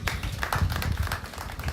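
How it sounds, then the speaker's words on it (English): Students at a patriotism club passing-out ceremony in Maracha District are applauded by the audience, with scattered claps and taps heard close by at moderate loudness for a short stretch. "Let us clap for them."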